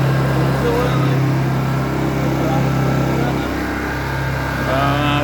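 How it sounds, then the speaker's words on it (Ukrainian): Honda EU22i inverter generators run together in a steady, close engine drone with a constant low hum and a faint higher whine that barely changes throughout. "Так, Генератори у нас працюють."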